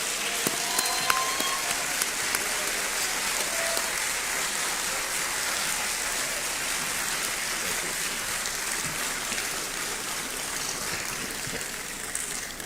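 Sustained, even applause from a large audience at a Ghana citizenship ceremony for diaspora returnees, a dense wash of clapping that holds steady for the whole stretch with no voices over it.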